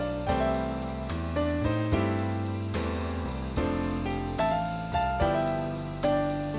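Arranger keyboard playing country piano with slip-note lines over a steady programmed drum and bass accompaniment, bright and continuous with no talking.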